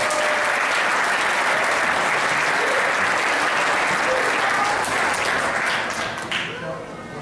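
At a company holiday party, the crowd breaks into loud, sustained applause that stays full and dense for several seconds, then thins out and fades toward the end.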